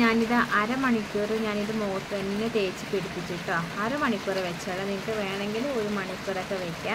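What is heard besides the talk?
heavy rain falling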